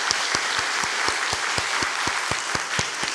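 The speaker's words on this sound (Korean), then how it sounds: "큰 영광의 박수를 한번 올려드리겠습니다" Church congregation applauding together on Easter morning, a steady dense wash of clapping with a few louder individual claps standing out, filling the room with no voices over it.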